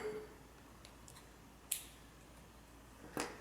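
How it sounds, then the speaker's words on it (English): Two crisp snips of scissors cutting crochet yarn, spaced about a second and a half apart, close and fairly quiet over a faint room hiss. "chain 1, and cut your yarn"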